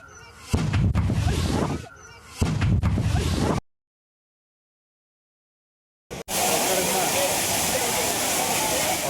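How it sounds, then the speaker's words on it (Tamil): The Agasthiyar waterfall at Papanasam, Tirunelveli district, roars loud and steady. A person speaks over the rushing water at first, then comes a brief silence before the roar returns. "அகஸ்தியர் அருவியில் தண்ணீர் ஆர்ப்பரித்து கொட்டுவதால்"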